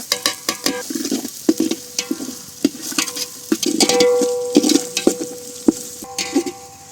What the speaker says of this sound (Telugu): పచ్చి బాసన పోయిన దాకా బాగా వేపుకోండి